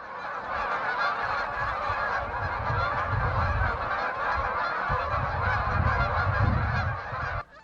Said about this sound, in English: The sights and sounds of the birds rising from the water is unique and unforgettable.